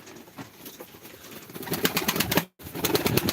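Soft cooing of Turkish playing pigeons repeats among fluttery rustling outdoors, growing louder midway before a brief dropout, with no talking.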